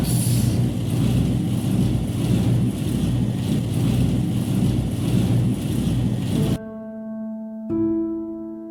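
A feed milling machine grinding chicken feed roars in a loud, dense, continuous rumble for about six and a half seconds, then cuts off abruptly, leaving quiet sustained musical tones.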